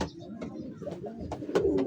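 Pigeons in a mini loft cooing in soft, low throaty bursts, several close calls overlapping in a steady rhythm, with faint speech-like sounds in the background.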